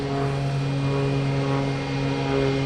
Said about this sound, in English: We have Cape Air taking off and a JetBlue landing.